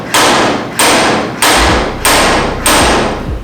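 A stud gun slide hammer bangs a dent out of a car body panel: five sharp, loud metallic thuds at a steady, even rhythm, each followed by a brief ringing decay, with no talking.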